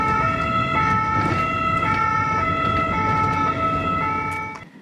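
A connected ambulance's siren wails steadily and loudly in alternating two-tone pitch, with road traffic rumbling beneath, fading slightly at the very end.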